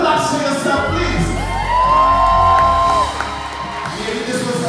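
Loud crowd at a live music show, Sekon Sunday 2021, cheering, whooping and shouting in a sustained roar, swelling louder midway and tapering off near the end; clapping is not clearly distinct within the wash of voices.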